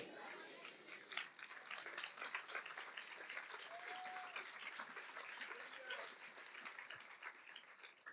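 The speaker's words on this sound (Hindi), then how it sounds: "अभी देखो तालियां भी ठीक से नहीं बज रही" Scattered, half-hearted clapping from a church congregation carries on steadily for several seconds at a fairly low level, with no voices on top.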